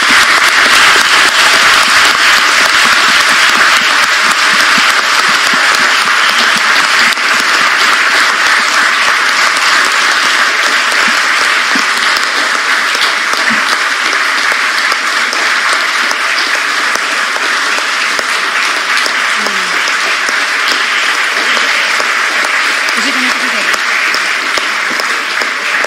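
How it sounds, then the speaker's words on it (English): Sustained applause from a large university audience welcoming a guest speaker, a steady dense wash of clapping that holds at an even, loud level throughout. "give a huge applause to our guest"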